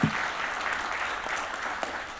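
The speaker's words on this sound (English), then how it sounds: "Give her another round of applause" Atlanta affordable-housing event audience claps in a steady, moderately quiet round of applause that continues evenly for a couple of seconds.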